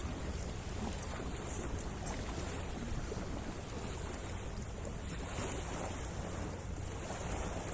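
Steady rush of sea waves and wind at the shore in Saudi Arabia, broad and continuous, with a faint motor hum underneath; no voices.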